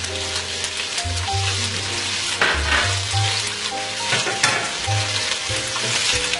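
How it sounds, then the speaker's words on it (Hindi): Onions and green chilies with carrots stir-fried over high heat for prawn fried rice, a steady loud sizzle with scraping stirs throughout, backed by a low musical hum. "एक मिनट के लिए तेज आंच से हम इन्हें भी स्टर करेंगे और फ्राई करेंगे।"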